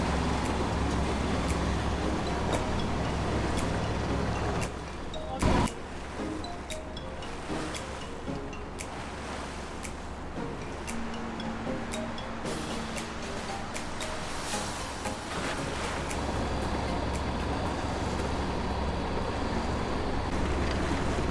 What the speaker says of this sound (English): Boat traffic! Yeah, yeah! Woo! Crazy waves.